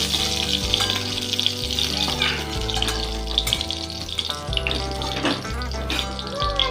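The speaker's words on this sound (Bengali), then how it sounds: "মাছটাও ভাজা হয়ে গেছে মাছটা আমি তুলে নিচ্ছি" Bhangan fish frying in oil in a home kitchen gives a steady, loud crackling sizzle that runs the whole time, layered over background music.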